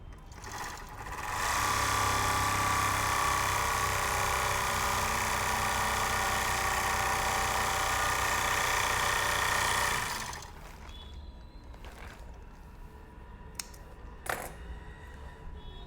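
An overlock sewing machine, freshly refitted with spare parts, runs loud and fast for about eight seconds in a final test, then stops, leaving quiet room noise and a few small clicks and taps.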